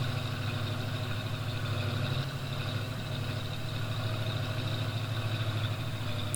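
A farm vehicle's engine in Farming Simulator 22 droning as it drives through a corn field, a steady mid-low hum with engine harmonics, continuous and unvarying, no voices.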